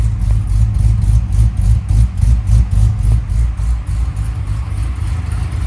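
A hurricane-flooded 1967 Corvette engine idles loudly nearby, a steady, regular ticking pulse from a broken exhaust running through its rumble, exhaust exiting from the side.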